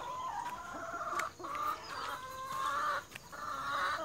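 Chickens cluck steadily in a close, busy chorus, with a few sharper squawks cutting through.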